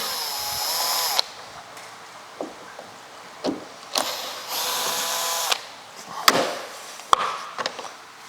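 A cordless screwdriver backs out two Torx T20 screws from the side trim of a 2010 Porsche Cayenne, giving short whirring bursts with clicks and taps in between, close up.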